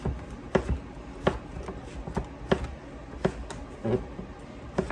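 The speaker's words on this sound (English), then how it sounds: "So cutting it lengthwise and then cutting it down." A knife chops zucchini lengthwise and then crosswise on a cutting board, about eight sharp, evenly spaced knocks close by, with no talking.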